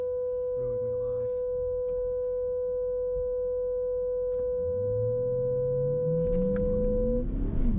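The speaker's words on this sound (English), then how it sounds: "parking sensors decided to just ruin my life" A Porsche Cayenne 4.2 TDI V8's parking sensor sounds a steady electronic tone, loud and continuous, while the engine rumbles underneath and rises in pitch toward the end; a voice is briefly heard early on.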